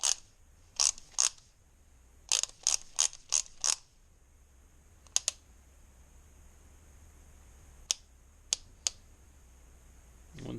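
Ratchet torque wrench tightening clutch cover bolts on a Kawasaki Z125 Pro, heard as short bursts of sharp close clicks, quick runs of ratcheting then isolated snaps with quiet pauses between, no talk.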